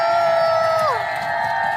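A studio crowd at an Indonesian TV cooking game show cheers for two teams, a short swell of shouting voices that eases off partway through.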